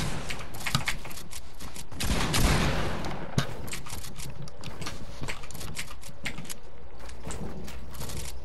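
Rapid gunfire bursts crackle in a Fortnite match, clusters of sharp shots with a heavier blast partway through, fairly close and loud over a steady game background.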